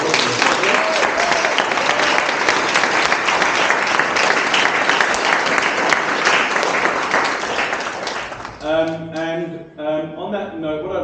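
Graduate show audience applauds its teachers with a full, steady round of clapping for about eight seconds, then it fades as a voice starts speaking over the last few seconds.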